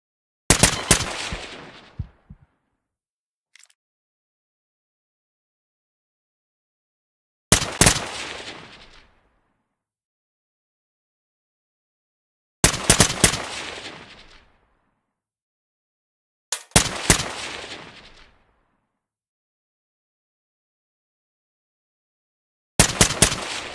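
Gunfire in the tactical shooter Ready Or Not: five separate loud bursts of shots, each cutting off sharply and then trailing away, with long quiet gaps between them.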